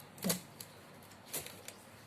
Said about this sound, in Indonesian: Sekarang kita ganti dengan keyboard yang baru, pasang sesuai.